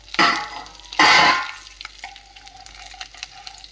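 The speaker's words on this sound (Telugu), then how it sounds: "కాడలు మగ్గించడానికి కొద్దిగా ఆయిల్ ఎక్కువ పడుతుందండి" Nalleru (veld grape) stalks fry in a generous amount of oil, with two loud bursts of sizzling as they are stirred, then a quieter crackle with scattered pops.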